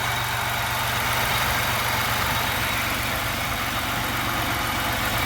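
A supercharged Pontiac Bonneville SSEI engine, freshly fitted with new supercharger belt, injectors, plugs, wires and boost valve, idles at a steady, loud, unbroken drone with no voices.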